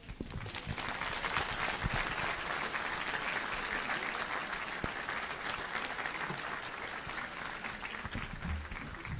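Sustained audience applause after a lecture presentation, many hands clapping evenly and steadily throughout with a few sharper claps standing out.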